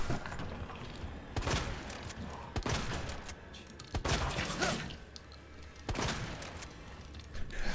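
Gunshots in Resident Evil 2, inside the police station: about five sharp single shots spaced a second or so apart, fairly faint against a low ambient background.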